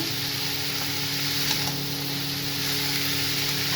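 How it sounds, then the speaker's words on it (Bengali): Cabbage curry fries in a pan with a steady, close sizzle and a faint scrape of stirring, continuous and even throughout. "এবার আমি নাড়াবো ভালো করে"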